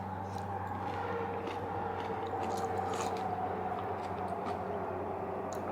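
Close, steady chewing of spicy pickled vegetables and kimchi from a self-heating instant hot pot bowl, a continuous crunchy, wet mastication with faint background hum and no speech.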